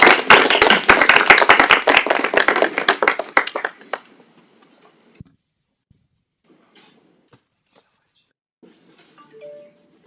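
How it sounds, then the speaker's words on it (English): Audience applause for the judges at the TigerLaunch Global Finals 2024 pitch competition: loud, dense clapping for about four seconds that cuts off sharply, followed by near silence with faint scattered sounds. "Let's give them one more round of applause."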